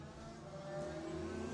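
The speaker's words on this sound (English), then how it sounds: "The revs go up. And away they go." Engines of racing mini bikes on the grid rev hard together at the start of an Irish championship race, a steady, dense, droning roar that holds high and swells slightly before launch.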